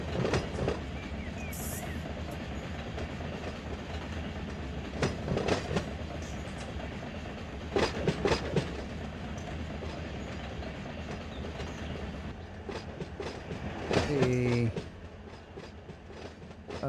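Rail cars rolling over track during switching at the Los Angeles Junction Railway in the Run 8 train simulator game, with steady rumble, rhythmic clickety-clack wheel beats and a brief wheel squeal near the end.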